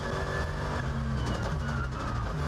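A race car engine at the Nürburgring 24-hour race snarls roughly through a downshift, a harsh, sputtering roar that stays loud and steady without any voices.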